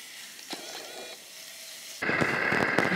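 Bacon fries in a pan over a campfire, a soft crackle that jumps into loud, steady sizzling with sharp pops partway through.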